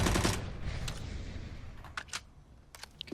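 Gunfire in a CS:GO match between BiG and North at the ELEAGUE Major 2018: a burst of shots opens loudly, then scattered sharp cracks and clicks follow at lower level through the rest.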